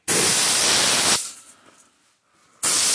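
Spray cleaner is sprayed onto a Kyosho Neo ST 3.0 RC car in two bursts, a loud close hissing spray lasting about a second, then a pause, then another burst.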